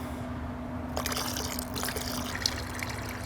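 Stock and water pour into a cooler to make a turkey brine, a steady splashing trickle with a low hum underneath and a few brief clinks.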